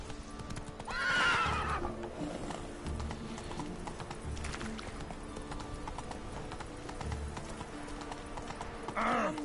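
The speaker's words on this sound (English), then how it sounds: "Run, Roach" Horse hooves clip-clop at a steady gallop through a Witcher 3 game scene, with whinnies near the start and again at the end, over background game music and ambience.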